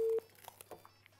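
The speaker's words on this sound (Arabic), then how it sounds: "على ما ناخد التليفون نصبح على ندى ونقول لها صباح الهنا" A telephone gives a short tone at the start, then a few faint, scattered beeps as a call is placed in a home kitchen, with no talk over it.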